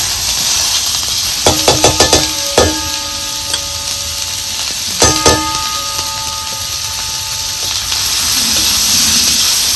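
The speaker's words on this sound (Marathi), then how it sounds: "बाकीच्या तेलात आपल्याला हे कांदा भाजून घ्यायचा आहे" Onion fries in oil in an iron griddle pan for a bhajyacha rassa, a steady close sizzle broken by clusters of sharp metallic knocks and scrapes from stirring, with no talking.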